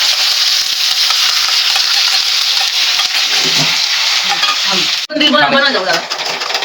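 Whole spices and masala hit hot oil in a kadhai for a Kolhapuri-style chicken curry, a loud, steady sizzle close by, joined near the end by brisk stirring and sharper crackling.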